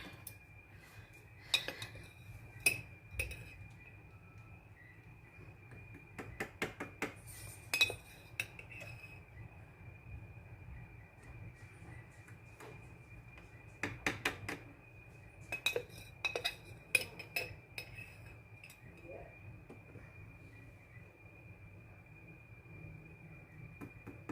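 A metal spoon scoops strawberry jello over a kitchen sink, making faint scattered clinks and scrapes against a dish in short bursts over a low, quiet background hum.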